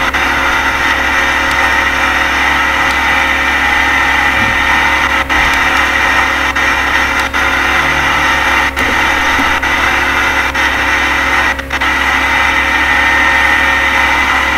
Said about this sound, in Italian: Metto tutto il motore